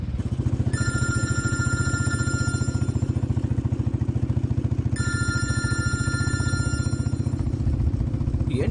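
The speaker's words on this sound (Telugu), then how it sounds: "ఏంటి అర్ధరాత్రి ఇప్పుడు నాన్న ఫోన్ చేస్తున్నారు?" A mobile phone rings with an incoming call at midnight: two bright electronic ringtone bursts a few seconds apart, close and clear over a steady low pulsing hum.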